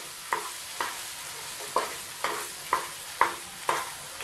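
Potato filling for aloo paratha frying in a pan and stirred at a steady pace, with about seven scraping strokes sounding over a soft, constant sizzle. No one speaks.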